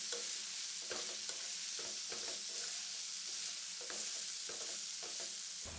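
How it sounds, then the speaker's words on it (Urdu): Chicken stir-fried with sliced onions, tomatoes and capsicum for restaurant-style shashlik, giving a loud, steady sizzle broken by regular scraping and clacking stirs, with no talking. "اب آپ اس میں تھوڑے سے پیاز، ٹماٹر اور شملہ مرچ اس طرح سے کاٹ کر شامل کر دیں اور انہیں بھی چکن کے ساتھ مزید 2 سے 3 منٹ بھون لیں"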